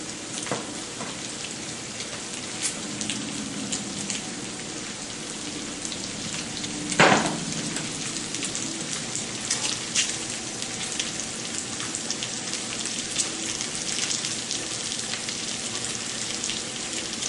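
Bacon fries in a pan as a steady, dense sizzle with fine crackling pops throughout. A brief louder crackle bursts out partway through, and no one speaks.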